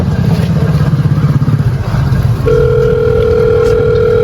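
A telephone ringback tone sounds steadily on an unanswered call, a continuous electronic tone that becomes clearer partway through over low background rumble.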